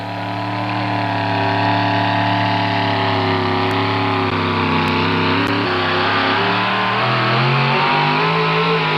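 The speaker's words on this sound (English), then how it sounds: "getting ready to turn all four of those tires in this four-wheel drive truck class" A loud four-wheel-drive pulling truck engine revs hard and steadily at a 2001 truck pull in Galax, Virginia, its pitch shifting as it strains under load, close and continuous throughout.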